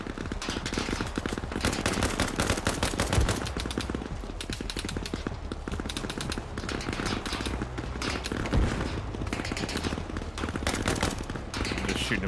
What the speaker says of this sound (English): I'm just shooting a bunch in the hill.